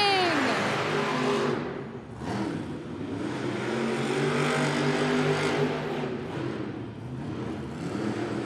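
Monster trucks racing at a Monster Jam arena event in Helsinki, Finland, engines roaring and revving loudly and continuously, with an announcer's voice and crowd noise mixed in throughout.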